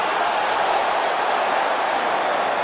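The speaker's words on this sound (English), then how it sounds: "This crowd has come alive." A boxing arena crowd roars and cheers at the Canelo Alvarez vs Billy Joe Saunders fight, a dense, steady wall of voices that holds at full volume throughout.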